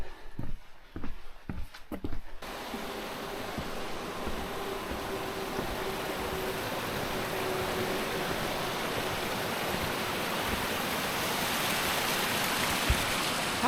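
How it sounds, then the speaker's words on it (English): Steady rain falls through an old cedar forest beside a dry boardwalk, a continuous soft hiss that fills the scene after a few brief knocks at the start, with no voices. "the trees actually are blocking quite a bit of the rain"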